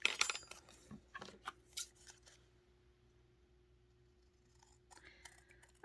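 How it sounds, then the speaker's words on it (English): Several crisp scissor snips through fabric in quick succession at the start, then a quieter pause before a couple of softer cuts near the end. "I love to cut with scissors. I love the sound it makes."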